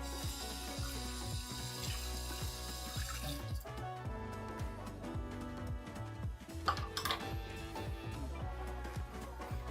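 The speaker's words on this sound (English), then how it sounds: "I'm definitely giving that a good rinse out." A container is rinsed under a running kitchen tap while baking an apple pie with a nacho cheese Doritos crust; water streams and splashes steadily, with clinks and a louder gush partway through.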